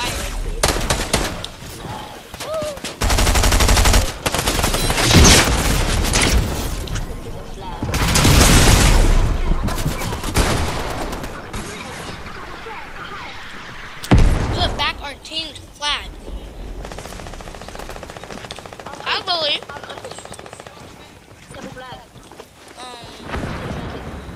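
Gunfire in the video game Fortnite, with loud bursts of rapid shots and booming blasts in several clusters, mixed with game effects and a voice talking.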